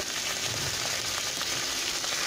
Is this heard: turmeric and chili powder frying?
yes